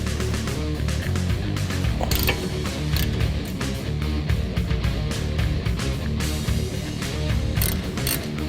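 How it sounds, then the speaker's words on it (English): A ratchet works on the caliper brackets of a 2005-2014 Ford Mustang, giving quick repeated clicking and metallic rattles in a steady busy rhythm close by, with no voices. "Now we're going to pull off the caliper brackets."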